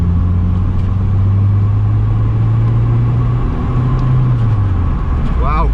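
Turbocharged Honda Civic EP3 Type R with a K20 engine driving, its engine drone steady and loud inside the cabin with the back seats removed, a low tone rising and falling under road rumble throughout.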